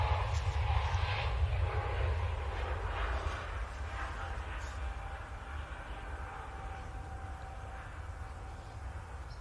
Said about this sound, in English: Lufthansa just getting airborne